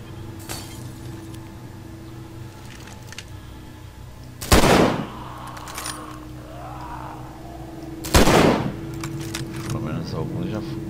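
Two loud, sharp gunshots from a firearm in The Walking Dead: Survival Instinct video game, spaced a few seconds apart over a quiet backdrop of low game ambience and faint clicks.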